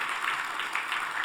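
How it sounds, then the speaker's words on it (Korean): A church congregation applauds two soloists, a faint, brief wash of scattered clapping heard from a distance. "우리 두 분 솔리스트를 위해서 우리 박수로 환영하고 격려하겠습니다."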